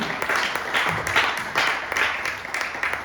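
Applause from a church congregation cheering for Jesus, a steady wash of many hands clapping throughout, moderately loud with some faint voices mixed in.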